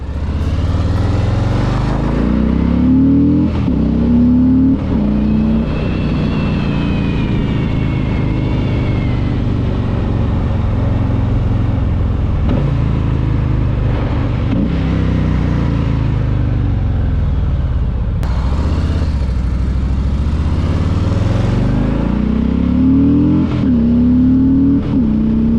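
A 2018 Harley-Davidson FXLR Low Rider motorcycle engine idles and revs up repeatedly, close and loud, with rising and falling throttle blips over a steady deep rumble throughout.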